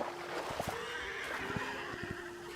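A horse neighs in the game Hytale, a short whinny cutting through steady game ambience alongside a few sharp hoof-like clicks, fairly close and alone with no talking.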